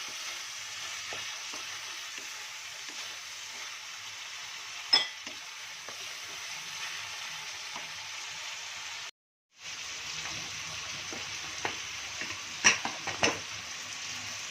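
Chicken meat sizzles and is stirred in a hot pan for a Bengali dal chicken dish, a steady frying hiss with scattered scraping clinks and a brief dropout partway through.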